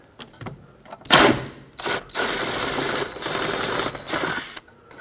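A hand tool working the bolt on the lower part of a hood hinge on a 1998-2011 Ford Ranger, heard as close bursts of rapid mechanical whirring and rattling separated by short pauses.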